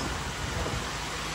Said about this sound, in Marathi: पाऊस आहे भरपूर इथं